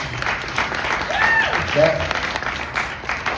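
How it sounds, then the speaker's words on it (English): An audience applauds at a singer-songwriter forum in Des Moines in honour of KFMG, an independent radio station; the clapping is steady and moderately loud, with voices and a bit of music mixed in throughout. "A round of applause for that."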